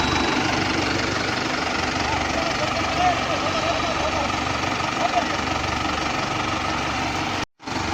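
A tractor engine running in a farm field, a steady low mechanical drone that holds level throughout with only a brief dropout near the end, while people talk over it.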